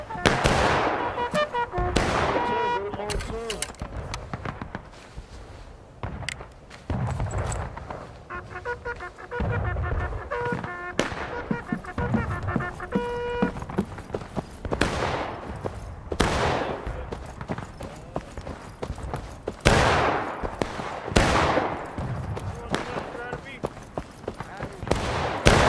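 Scattered musket volleys crack through a Civil War battle in War of Rights, sharp reports repeating near and far at an irregular pace, with voices talking and shouting over the firing.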